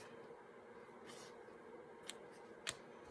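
Scissors snip apart stitched, stamped paper tags for a tall, narrow collage, giving a few short, crisp cuts against a quiet room with no talking.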